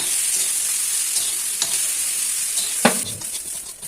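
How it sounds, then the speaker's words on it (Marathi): Onions roasting in a pan for crab curry, a loud steady sizzle with intermittent spatula scrapes and one sharper knock near the end. "आता आपण कांदा भाजून घेऊ."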